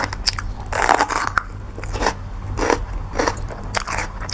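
Someone biting into crunchy sweet food, the crisp snaps and crackles coming close and loud in quick bursts between chewing.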